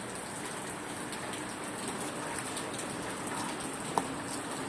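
Steady rain falls outdoors in a continuous, even hiss, with one brief sharper drip or tap near the end and no talking.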